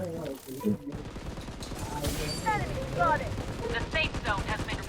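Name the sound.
gunfire from above in video game BloodStrike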